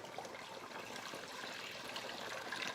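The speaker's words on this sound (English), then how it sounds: "And then we'll add some water." Steady splashing and trickling water, a continuous pour filling a pot at close range with no talking.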